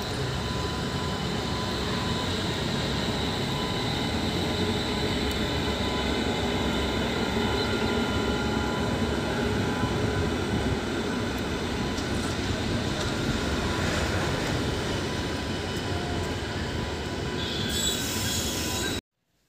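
Train departing and running on rails, a loud continuous rumble with wheels squealing and clattering throughout, close by and sustained for nearly twenty seconds before cutting off abruptly.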